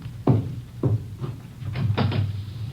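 A radio drama sound effect of knocking at a back door: a handful of hollow wooden raps, two spaced single knocks followed by a quicker cluster, crisp and close in a quiet room.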